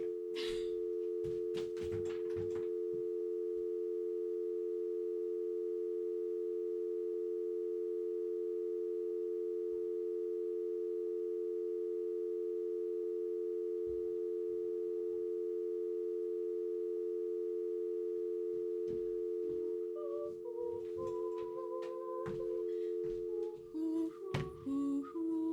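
A steady continuous phone tone drones in Detective Barbie in The Mystery of the Carnival Caper, unbroken for about twenty seconds, with brief clicks and knocks early on and bursts of electronic game sounds near the end.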